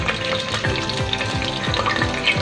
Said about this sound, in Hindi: ये घी गर्म हो चुका है। अब मैं आपके सामने प्याज चॉप किया हुआ डाल दूँगी।